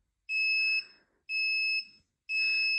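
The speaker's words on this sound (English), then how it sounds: "I'll go ahead and let you hear what the buzzer noise sounds like" A timer buzzer sounds three times in a steady pattern, each piercing electronic tone lasting about half a second with short silent gaps between, loud and close with no voices.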